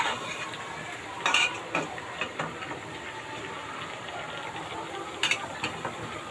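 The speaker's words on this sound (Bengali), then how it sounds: "যাতে মিষ্টি কুমড়া এবং টমেটো মাংসের সাথে ভালোভাবে মিশে যায়, সেজন্য একটু ভালো করে নেড়ে দিচ্ছি।" Chicken curry with sweet pumpkin and tomato being stirred in a pot, soft wet sizzling under irregular clinks and scrapes of a utensil against the metal, close and moderate, with no talk.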